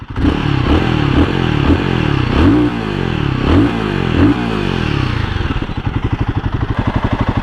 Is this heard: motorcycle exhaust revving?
yes